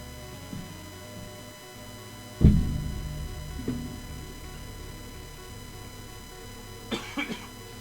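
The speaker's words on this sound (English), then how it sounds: "Cough, cough." A sharp cough bursts out, followed by a smaller one and then a quick pair of short coughs, with a steady hum underneath.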